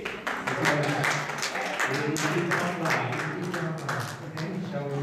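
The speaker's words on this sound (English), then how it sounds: "give yourselves a round of applause" A church congregation claps in scattered, uneven bursts while a voice talks over the top, the applause staying moderate and fairly close.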